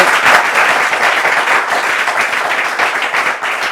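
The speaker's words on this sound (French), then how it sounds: "On va applaudir très fort pour son analyse." Loud, close audience applause for a pastor's analysis on a talk show, dense continuous clapping with no talk over it.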